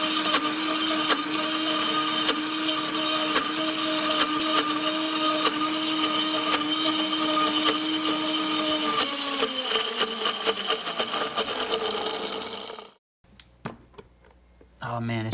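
Vitamix Professional Series 750 blender churning peanut butter, a loud continuous motor whine with steady harmonic tones that shift and drop near the end before the machine cuts off, followed by brief quiet clicks.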